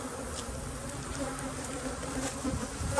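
A dense, steady drone of honeybees swarms around an open hive at an apiary during mite treatment, a close, continuous buzz with individual insects passing by.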